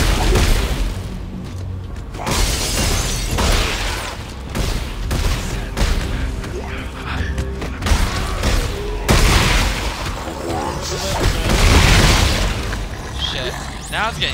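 Repeated gunfire and heavy booms fill a fight against necromorphs in the video game Dead Space 3, a continuous loud barrage with thumps, and voices talk over the action.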